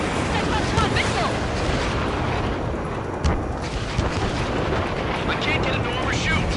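Missile explosions and dense jet-combat roar fill the Ace Combat Skies Unknown video game, a loud continuous rumble with a sharp blast near the middle and a few smaller thuds.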